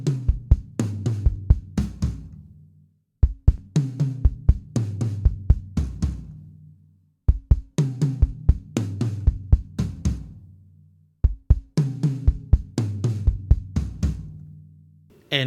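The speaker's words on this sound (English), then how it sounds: "this is a drum fill that you can actually use in real music" A drum fill with rapid double kick-drum beats and cymbal hits plays four times, each run separated by a short pause.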